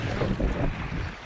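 Wind blows steadily across a fishing boat at sea, a continuous low, rumbling roar with gusty buffeting against the microphone and no voices.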